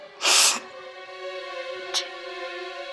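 A single loud, close sneeze bursts out near the start, followed by a faint brief sniff over a steady low hum.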